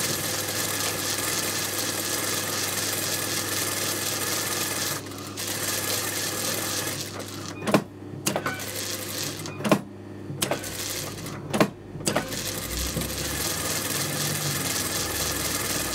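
Sewing machine running forward and reverse seam stitches on a sari during pleating, a steady mechanical whirr broken by several short pauses and clicks as the stitch direction changes, close and continuous with no talk.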